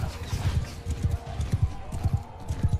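Horses gallop in Mount & Blade II: Bannerlord battle, a rapid rhythmic drumming of hooves, close and continuous throughout.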